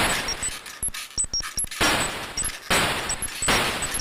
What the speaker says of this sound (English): it's actually not that easy to actually shoot the enemies with your forward shooting weapon